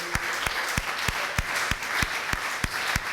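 Worship congregation applauding with a steady rhythmic beat of hand claps, one every third of a second, ringing over a wash of crowd noise in a hall.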